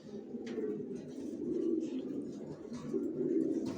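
Racer pigeons coo in a loft, soft throaty repeated coos overlapping in a continuous murmur, close and fairly quiet, with faint rustling and no voices.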